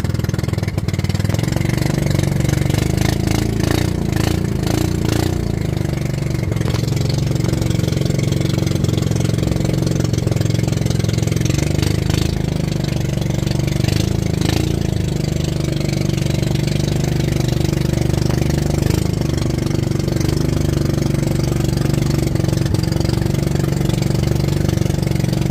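A small fishing boat's engine runs steadily at a loud, even idle throughout, with a constant low drone and faint knocking, unchanged by any talk.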